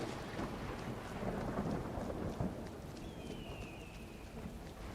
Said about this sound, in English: Still got some thunder and lightning,